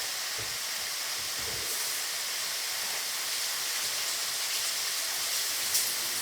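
Tap water runs steadily over baby kale leaves in a kitchen, a constant close hiss with faint splashes and rustling, no talking.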